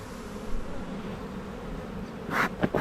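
A large, strong honeybee swarm gives a soft, steady buzzing, with a few louder close passes near the end.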